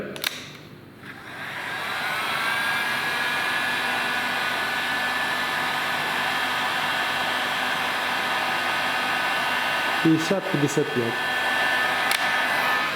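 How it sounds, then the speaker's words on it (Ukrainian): A hair dryer blows with a steady, loud whooshing roar for the whole clip, and a brief spoken phrase comes in near the end. "Фен."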